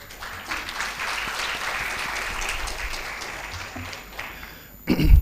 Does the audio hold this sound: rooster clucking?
no